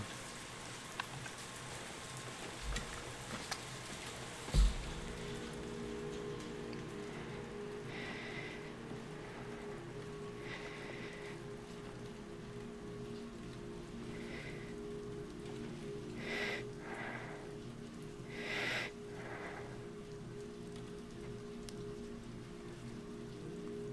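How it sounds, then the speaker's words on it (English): Steady rain falls in the Silent Hill 2 remake, a continuous soft hiss of drops on surfaces with a few louder splashes and thumps, heard alone without any voices. "who doesn't like the sound of rain?"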